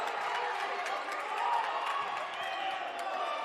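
A crowd at a women's college basketball game between Kalamazoo and Albion murmurs and jeers in steady, dense disagreement after a foul call, a continuous broad wash of voices with no clear pauses.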